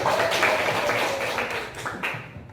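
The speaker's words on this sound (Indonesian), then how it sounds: "Tepuk tangan untuk Muna" A class of children claps together for a classmate in a school lesson, a dense, steady patter of small hands that fades out near the end.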